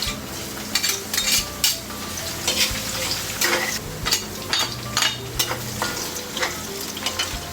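Ginger, garlic and onion sauté in oil in a pan for chicken adobo, a steady sizzle and fry with repeated utensil scrapes and clinks of stirring, close and loud, with no voices.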